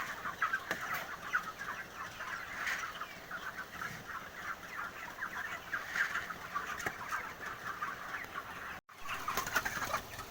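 A flock of broiler chickens at feeding time clucks continuously at a distance, a busy, faint murmur of overlapping calls with a brief dropout near the end.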